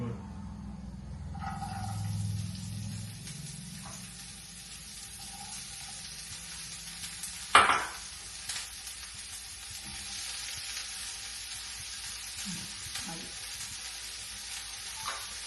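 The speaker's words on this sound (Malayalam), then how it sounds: "അടുത്ത് ഞാൻ അനിയൻസ് ആൻഡ് ക്യാപ്സിക്കം ആണ് ഇടാൻ പോണത്." Onions and capsicum frying in coconut oil in a home kitchen pan, a steady close hiss and sizzle with one sharp clatter midway and a few soft stirring knocks, no voices.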